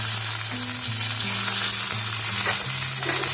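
Chopped tomatoes frying in a pan for a Bengali winter mixed vegetable dish, a loud continuous sizzle with stirring scrapes and a steady tonal hum underneath, no voices.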